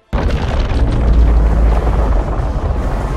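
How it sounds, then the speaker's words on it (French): A massive energy explosion from a Godzilla film erupts abruptly into a loud, deep, sustained roaring boom that rumbles heavily for several seconds without fading. "provoquant une énorme explosion d'énergie et un flash aveuglant"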